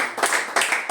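Congregation clapping in rhythm during a French evangelical Sunday service in a Nantes church, three or so loud, close, even claps within a second.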